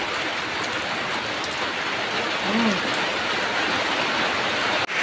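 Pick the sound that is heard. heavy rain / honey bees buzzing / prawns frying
heavy rain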